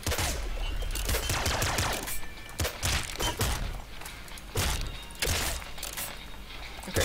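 Rapid bursts of Bouncer SMG fire in a shooter video game, loud crackling volleys repeating in clusters with short gaps between them, close and dominant.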